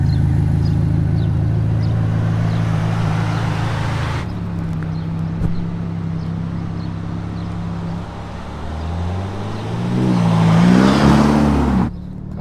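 A Ferrari Roma engine pulls steadily on its first test drive, a loud rising drone through the gears with a gear change partway, then another climbing rev near the end.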